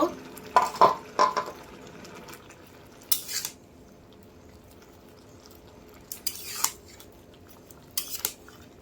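Bottle gourd greens are stirred in a cooking pan with a utensil, producing scattered metallic clinks and scrapes in short bursts separated by quiet pauses, close and fairly clear with no talking.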